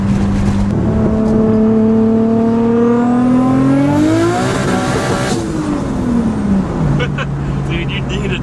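A big-turbo RB25-swapped Nissan 240SX accelerating hard from inside the car, engine note climbing steadily through the revs with turbo whine, then a shift and drop in pitch; loud and close.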